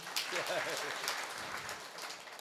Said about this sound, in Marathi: एकदा गायक वादकसाठी जोरदार टाळ्या वाजव बाबा.